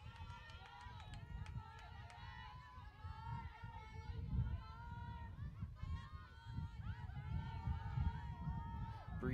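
Breeze gusting across the crowd microphone at a college softball championship game, low rumbling buffets swelling around the middle and end, mixed with steady crowd hubbub and distant voices.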